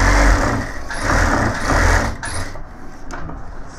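A sewing machine stitches the side pocket of a gents' suit in a steady mechanical whir that surges in bursts, runs loud and close, and drops away near the end.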